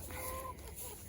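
Backyard urban homestead chickens in winter give a brief, faint cluck or two over steady background noise.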